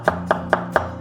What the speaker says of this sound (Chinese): 我们切一点配菜，这个蒜头切片。